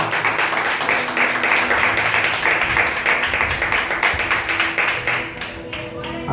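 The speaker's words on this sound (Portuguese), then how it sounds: "As palmas bem alegres do Senhor." A church congregation claps hands joyfully during a Portuguese-language worship service, a dense rhythmic clapping that runs steadily throughout and fades slightly near the end.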